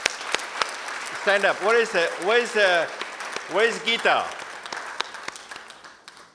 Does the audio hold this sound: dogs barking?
no